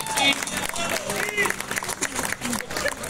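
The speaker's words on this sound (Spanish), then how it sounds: "Un aplauso para Siche" Crowd applause with scattered cheers and chatter, a steady wash of clapping filling the space without pause.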